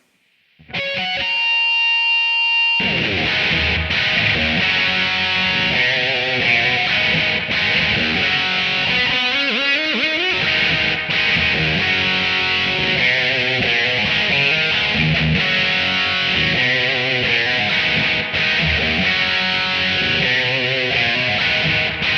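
A heavily distorted electric guitar plays two full choruses of a song, loud and sustained after a brief quiet lead-in, with no voices.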